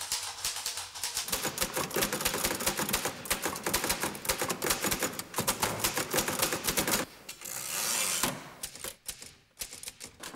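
Rapid clatter of many mechanical typewriter keystrokes, loud and dense, with dozens of machines typing at once in a busy, overlapping rhythm before thinning out near the end.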